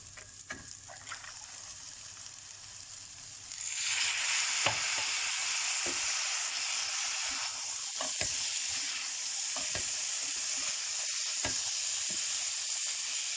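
Bulgur pilaf with yarmaca toasting in a hot pan on the stove, a steady loud sizzle and crackle that jumps louder after a few seconds, with light stirring scrapes and no talk.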